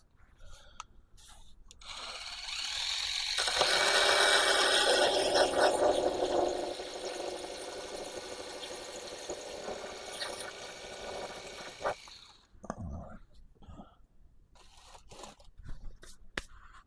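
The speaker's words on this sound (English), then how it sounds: "There was a little corner here I had to sand away." A part of a Seagull A-1 Skyraider model airplane is sanded by hand, giving a continuous close scraping that swells and then fades, followed by a few scattered handling knocks.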